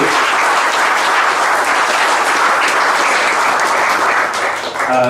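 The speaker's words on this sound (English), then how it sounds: "round of applause for the course staff and all the work they" Sustained applause from a crowd at a golf club captain's prize presentation night honouring the course staff, a dense steady clatter of many hands, loud and continuous, tapering slightly near the end.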